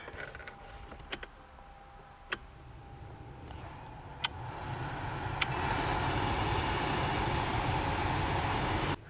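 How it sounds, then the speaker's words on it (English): A replaced blower motor in a Toyota Camry starts up, its steady airflow rush rising and filling out after a few seconds, with scattered faint clicks early on and no rattling. "now our blower motor is reinstalled"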